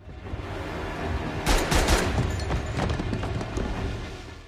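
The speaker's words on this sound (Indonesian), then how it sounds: "hingga baku tembak pun terjadi" Gunfire in a film shootout scene: a rapid volley of sharp cracks arrives after a quieter start, then scattered shots continue against a rumbling background mix.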